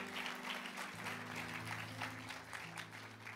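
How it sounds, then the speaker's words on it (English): A church congregation claps during a sermon while sustained organ or keyboard chords play underneath, the clapping soft and fairly distant. "Come on, let's give the Lord a clap offering."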